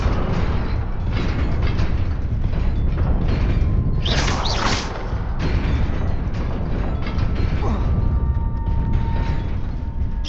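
The Incendio fire spell in Hogwarts Legacy bursts with a whooshing flare around the middle, over a dense bed of game ambience and rumbling effects, loud and close.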